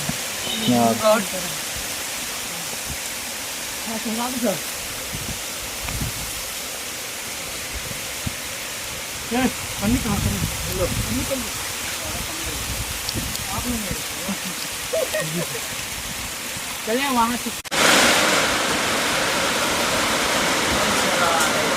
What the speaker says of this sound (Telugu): వాన అయితే దంచుతుంది.